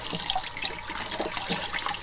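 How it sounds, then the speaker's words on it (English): Cucumber rubbed gently under a running tap to clear its small white spines, a steady hiss of flowing water with faint splashing, close and continuous, no voices. "little bit of water, and just very gently rub, and they come off"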